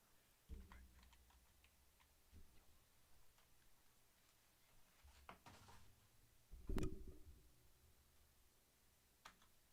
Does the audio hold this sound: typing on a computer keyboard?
yes